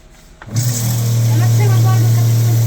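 An AP110-03-8MS injector sprayer's small motor starts up and settles into a loud, steady droning whine, running continuously close by.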